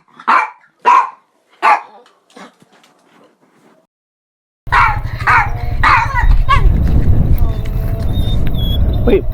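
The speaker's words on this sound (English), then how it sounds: "the dogs are they're begging for the meat" Dogs in the Kerry mountains bark in sharp, loud bursts while begging for meat, first alone and then over a steady low hum with people talking nearby.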